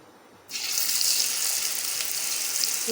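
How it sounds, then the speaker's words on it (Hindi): Pakoras drop into hot oil in a kadhai and start to fry, a sudden close hiss that turns into a steady crackling sizzle. "दूसरी तरफ हमने कढ़ाई में ऑयल डाल दिया था, वो गर्म हो चुका है। अब हम इसके अंदर पकौड़े डालते हैं।"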